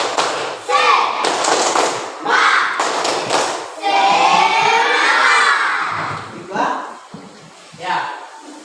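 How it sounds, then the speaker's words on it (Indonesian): Schoolchildren perform a rhythmic spirit clap, with bursts of unison claps and thumps alternating with loud group shouting and chanting, close and lively, the clapping pattern breaking up into voices toward the end. "Tepuk semangat."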